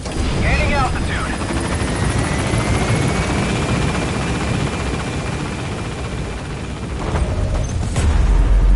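A helicopter lifts off in Metal Gear Solid V: The Phantom Pain. Its loud, steady rotor roar and engine whine fill the scene throughout, swelling slightly near the end, with brief voices over it.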